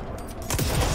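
Gunfire in the game Control, a quick cluster of sharp shots that grows louder in the second half of a brief moment.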